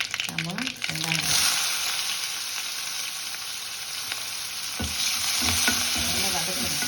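Onions sautéing in hot oil with popped mustard seeds for a drumstick, brinjal and mango sambar, a steady close sizzle with occasional stirring scrapes, under someone talking at the start and near the end.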